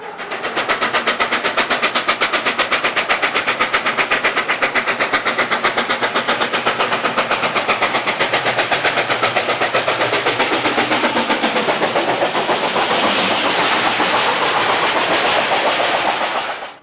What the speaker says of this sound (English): The 1522 is cracking at the stack as she climbs Belleville Hill.